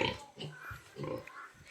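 A pig in a pen grunts several times in short, close bursts, low and rough, with a quiet background around it.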